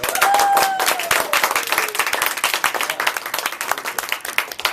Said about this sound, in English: that is worth a round of applause